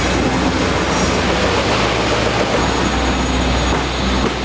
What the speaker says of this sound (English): I'm going to take it over to the wide belt sander and make quick work of finish sanding this puppy.